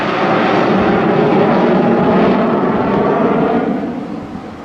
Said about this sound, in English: bringing the aircraft a little closer for you. At a slow speed, under 200 knots, so he's got the flaps down